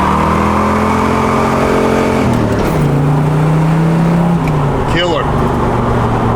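A 1979 Pontiac Trans Am on the road: a loud, steady V8 drone heard from inside the car, with the pitch dropping as it shifts gear partway through and a brief squeak near the end.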